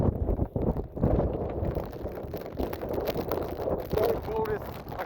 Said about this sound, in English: We are in the Eyewall of Tropical Storm Henri right now, and look at how windy it is